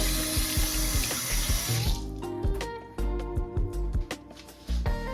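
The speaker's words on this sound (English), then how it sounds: "I rinse my hand again." Hands rinsed under a running kitchen tap, water splashing steadily into the sink, with a brief change in the flow partway through.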